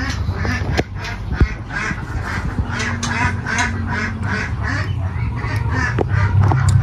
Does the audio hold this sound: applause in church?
no